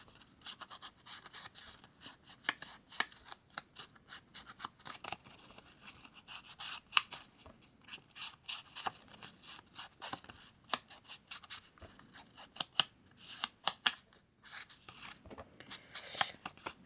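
Scissors snip through white and red paper while a heart-shaped Valentine's card is cut out, giving a string of close, crisp little cuts and rustles with short pauses between them.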